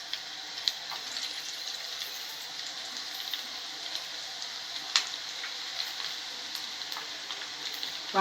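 Pakodi batter of dried peas and amaranth leaves drops into hot oil and fries with a steady, bright crackling sizzle, continuous and close, with occasional sharper pops and no talking.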